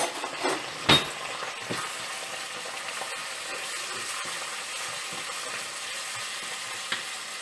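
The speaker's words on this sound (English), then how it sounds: "I will mix it well and allow it to cook for some time." Ginger garlic paste with a little salt and turmeric powder cooking in a pan, giving a soft, steady sizzle that goes on throughout, with a couple of brief sharper clicks near the start and one near the end.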